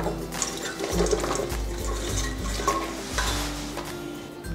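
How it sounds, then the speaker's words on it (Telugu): Green peas go into a pot of boiling salted water, with a bubbling, watery wash close by. Clinks of pot and utensil and brief stirring sounds come through with no voices. "నీళ్ళు మరుగుతున్నాయి కదా, ఇప్పుడు దీంట్లో బఠానీలు వేసుకోవాలి."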